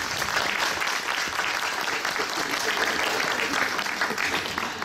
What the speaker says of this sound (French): Allez, on applaudit nos invités pour ces titres de l'Infomédia